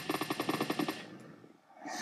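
Rapid Uzi fire from BoxHead Zombie Survival, a burst of about nine evenly spaced shots over one second, fairly close and punchy, then a brief quieter tail.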